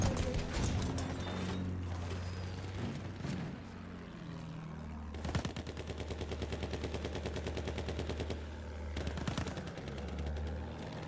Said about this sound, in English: Das sind Flugabwehrgeschütze.